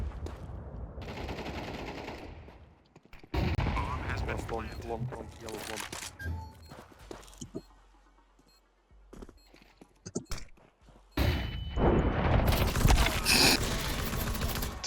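Bursts of Counter-Strike 2 gunfire, loud automatic-weapon fire in clusters separated by quieter gaps, with players talking over the shooting.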